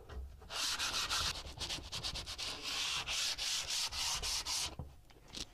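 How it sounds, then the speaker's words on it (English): Wooden boarding ladder steps being scuffed by hand sanding, a steady close rasping rub in quick back-and-forth strokes lasting several seconds, with no talking. "we like to just scuff them a little bit here in the bottom"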